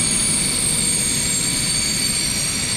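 A train at a Prague railway station platform gives a continuous loud rumble with a steady high whine, with no talking over it.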